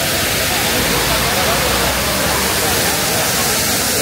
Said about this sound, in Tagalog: ito yung man-made waterfalls dito sa Corfacan, sa UAE